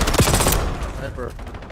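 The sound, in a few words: sniper gunfire in video game Black Ops 7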